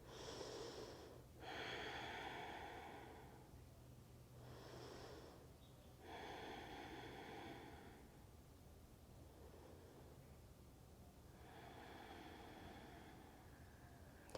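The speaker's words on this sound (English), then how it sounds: "Take one more big breath in" A person breathes deeply during a yoga shoulder stretch with a strap. Several slow, breathy inhales and exhales come close and soft, with quiet pauses between them.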